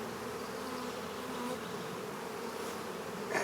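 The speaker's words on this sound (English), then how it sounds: "There's still quite a few bees in here need to get knocked out." Honeybees hum around a hive during a transfer from nucleus boxes into full hive boxes, a steady close buzzing drone that holds evenly throughout with no talking.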